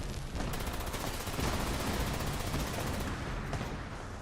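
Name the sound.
explosion in the video game Fallout 76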